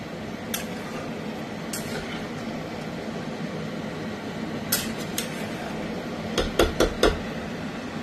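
Chicken korma is stirred in a pan with a metal utensil, giving scattered light clinks and scrapes over a low background hum, then a quick cluster of sharper knocks near the end.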